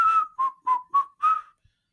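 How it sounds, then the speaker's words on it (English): Five short, clear whistled notes follow one another in quick succession, each a bright steady pitch with small glides, close and fairly loud against silence. "It whistles while it works."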